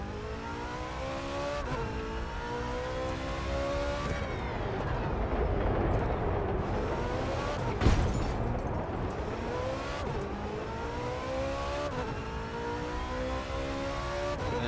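A simulated car engine in the racing game The Crew 2 revs and shifts through gears repeatedly, rising in pitch and dropping between shifts, steady and prominent with no talking.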